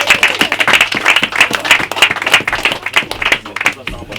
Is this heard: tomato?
no